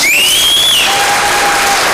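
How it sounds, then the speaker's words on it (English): A brief, loud burst of dense audience clapping for music teachers at an honor orchestra concert, with thin whistles or cheers above it. "Could we do one more round of applause for all the amazing"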